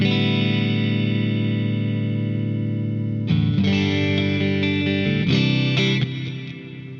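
A Laney LA-Studio electric guitar amp rings with heavy reverb, one sustained chord followed by a few strummed chords that wash and linger before fading.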